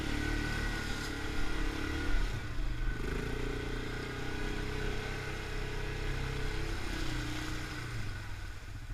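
A Yamaha Grizzly 550 quad in four-wheel drive churning through deep mud, its engine droning steadily and close, with shifting revs and a muddy, rumbling texture throughout, no voices.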